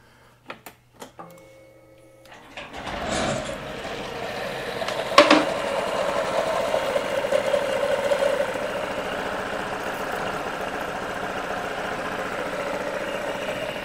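A Honda Forza 125 scooter engine with a Malossi variator idles steadily after a few clicks and a sharp start, its mid-pitched drone running on evenly with faint rattling.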